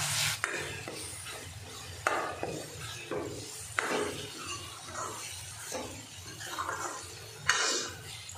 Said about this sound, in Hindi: मैं धनिया डाल दूँगी और इसको मिक्स कर लूँगी